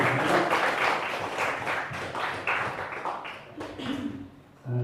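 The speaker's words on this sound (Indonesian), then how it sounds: "Tepuk tangan dulu dong" Audience applause breaks out at an Indonesian gathering, uneven bursts of clapping that swell and dip, with a brief lull near the end before the clapping picks up again; a voice seems to murmur underneath.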